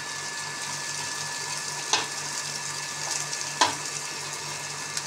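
Dried red chillies fry in hot oil beside greens layered over small puti fish seasoned with turmeric and salt, giving a steady close sizzle broken by a couple of sharp crackles.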